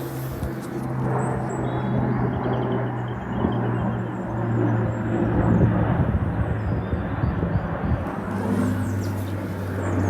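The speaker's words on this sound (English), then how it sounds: "Big plane, whatever that is." A large airplane flies overhead, hidden in low clouds, producing a steady low droning rumble that swells slightly and then holds on, with no talking.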